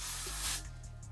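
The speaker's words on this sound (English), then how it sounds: "just keep on parting and spraying the dry shampoo." A short, breathy hiss of aerosol dry shampoo sprayed onto the hair and scalp, one quick burst followed by soft faint puffs.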